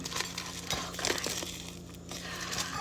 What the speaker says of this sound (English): We are going to unwrap it.